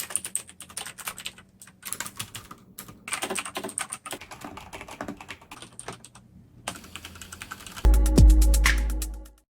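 Rapid clicky typing on a G.Skill KM780 RGB mechanical keyboard fitted with blue switches, a dense near stream of key clacks with short pauses, ending in a louder low thump.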